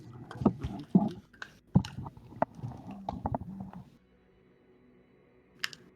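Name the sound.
chewing on a bottle cap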